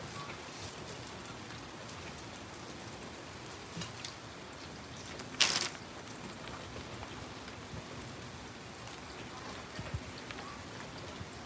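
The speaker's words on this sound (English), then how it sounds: "We still have a little drizzle coming down." Light drizzle falls steadily as a soft, constant patter of raindrops on outdoor surfaces, broken by one brief louder splash or knock partway through; no voices.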